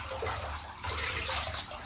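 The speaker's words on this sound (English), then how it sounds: "you get watered down. Nice, fresh, clean water." Fresh, clean water is poured over a Basenji dog during a bath, giving a steady splashing pour close by that swells briefly midway.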